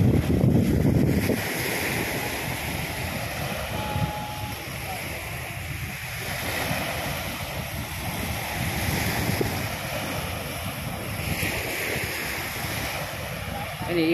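Waves washing garbage ashore at Manila Bay, a continuous broadband surf wash mixed with wind buffeting the microphone, fairly constant with gentle swells in level.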